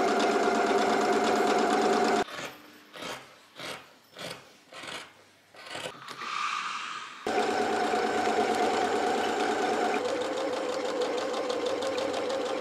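A sewing machine stitches a seam on the Simone dress at 0.7 cm, catching a small extra strip in between. It runs steadily, then breaks into several short bursts separated by brief pauses, then resumes with a longer continuous run.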